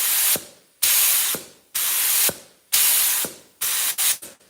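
A spray gun lays down clear coat in about eight stop-start bursts, each a loud hissing spray that cuts off sharply, with the last few bursts shorter and quicker.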